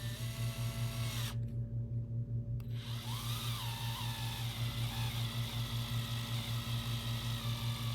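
A small powered driver runs M2.5 screws into 3D-printed parts for a mini sprint car kit, a steady pulsing buzz with a brief pause and a rising whine as the screw seats, no talking.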